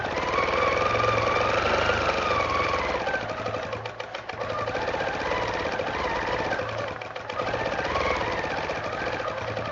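A sewing machine stitching free-motion quilted feathers runs at a fast, steady mechanical chatter, close and loud, briefly slowing twice before picking back up to full speed.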